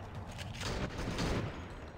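Sustained gunfire in the zombie horde shooter Last Day Alive, a dense, continuous crackle of rapid shots at moderate distance, fairly quiet, with no talking.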